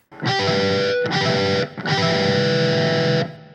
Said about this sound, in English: you're actually going to play the harmonic, the natural harmonic of that sequence